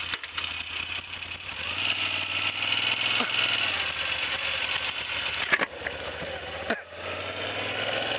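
A motorcycle pulls away on a test ride filmed with an action camera on a gimbal, engine revving and droning up through the gears with wind rush and a couple of sharp knocks, no talk.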